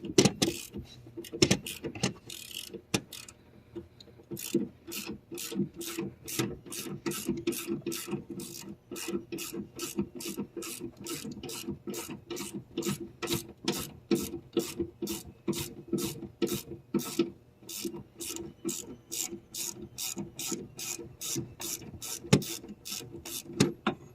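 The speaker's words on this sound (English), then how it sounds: "Take off the other bolt. It might be a bit tight at the beginning." Rapid ratcheting of a hand wrench loosening a bolt on a 2009-2014 Ford F150 crew cab under-seat storage box, a steady run of sharp clicks repeating for the whole stretch, close and fairly loud with no talking.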